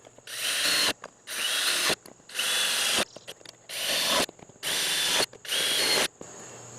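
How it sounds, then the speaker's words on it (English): Power drill boring holes into sheet metal under a truck tailgate, seven loud bursts of high whining grind separated by short pauses, close and alone. "we're going to drill some holes here into that sheet metal that we got underneath there"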